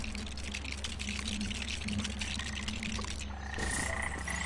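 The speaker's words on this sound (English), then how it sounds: "Tiny little frog, shut up." A small frog in the Lego Jurassic World video game croaks repeatedly in a steady run of rough calls, fairly close, over a dense wash of game ambience and water-like background noise.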